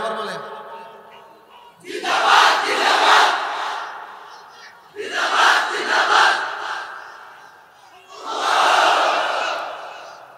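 A religious sermon crowd chants the slogan "Zindabad" in three loud, swelling collective shouts, each rising and fading, following a speaker's call.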